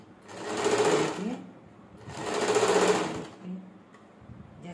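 An electric sewing machine runs in two loud bursts of stitching along the neck of a suit fabric, with a short quiet pause between them and a third run just starting at the end.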